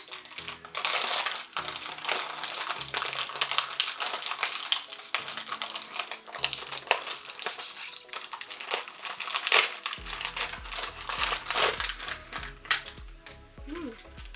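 Someone opens a package of Asian snacks such as mochi, seaweed or ramen, giving crinkly plastic rustling and tearing close up, with someone talking over and between the handling noises.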